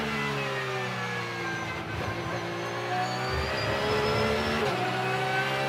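A GT World Challenge race car at Road America climbs a hill accelerating and shifting up to third gear, a loud rising engine drone with stepped pitch changes, steady and close throughout.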